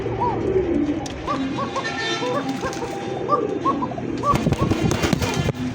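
A pigeon coos repeatedly, with soft rounded calls recurring through steady background noise and some sharp crackling pops. The cooing sounds close, and a voice may murmur faintly underneath.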